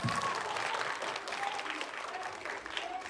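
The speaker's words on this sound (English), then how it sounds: "let's give them a big round of applause." Sustained applause from a school assembly audience celebrating the teams, a dense, steady wash of many hands clapping throughout with faint voices mixed in.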